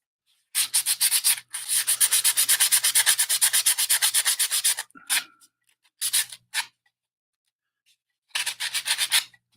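Repeated rhythmic sanding strokes on metal parts of an OcCre 1:24 San Francisco cable car model, in quick close bursts separated by short pauses, with no talk.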